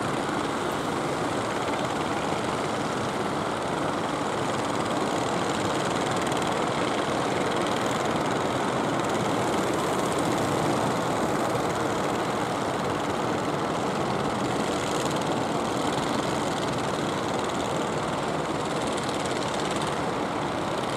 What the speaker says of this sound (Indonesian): Anak sing ngongkon ngerekam mesin-mesin ini